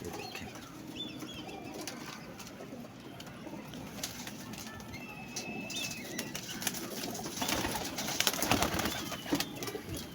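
Pigeons coo softly amid outdoor ambience, with occasional wing flaps and rustling that grow a little louder toward the end.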